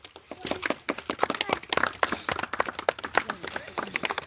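An audience claps in a loose, uneven rhythm of distinct sharp hand claps, fairly close and lively, continuing for several seconds without talk.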